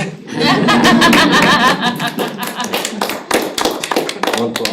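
Audience at a Hendersonville city council meeting claps in a dense burst that thins into scattered claps, with some chuckles and talk mixed in.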